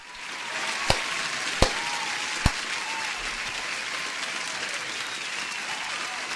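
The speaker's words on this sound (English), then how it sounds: "I need to give you an applause." Steady crowd applause runs throughout, a dense wash of many hands clapping at even loudness, broken by three sharp clicks near the start.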